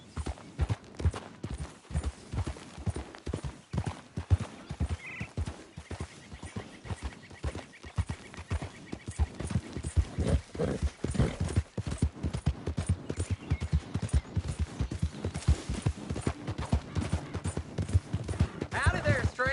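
In Red Dead Redemption 2, steady clip-clop of horse hooves trotting at a brisk, even rhythm, close and continuous, with a person talking over it.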